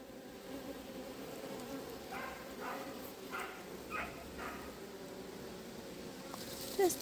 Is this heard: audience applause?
no